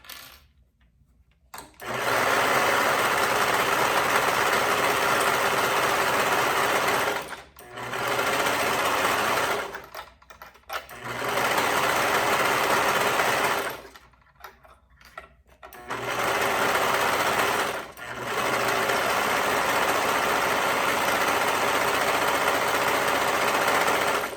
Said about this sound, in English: So stitch that hood opening with a 1/2 inch seam allowance.